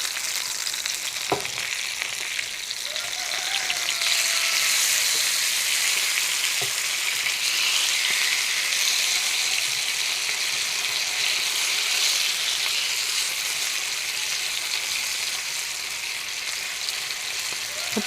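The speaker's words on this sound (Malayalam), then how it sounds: "അപ്പം നമ്മുടെ കരിമീൻ ഷാലോ ഫ്രൈ ചെയ്തത് റെഡി ആയിട്ടുണ്ട്" Karimeen, pearl spot fish, shallow frying in oil in a pan, a steady loud hiss and crackle of sizzling oil throughout, close, with occasional faint clicks and no talking.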